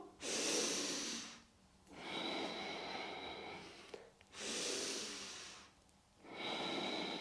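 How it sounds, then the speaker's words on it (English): Slow, deep yoga breathing during a flow: long airy inhales and exhales alternate in steady cycles, each lasting a second or two, close and clear with no talking. "Again, inhaling and exhaling."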